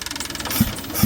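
An RV engine cranks after the start button is pressed, with a brief rough churning and a couple of low knocking pulses as it tries to catch, heard close in a very short burst.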